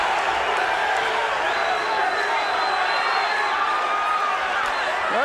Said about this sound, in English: The crowd is chanting USA,